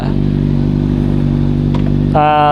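A Kawasaki Ninja ZX-6R idles loudly and close by with a steady rumbling hum, then its engine note jumps to a higher, brighter tone near the end.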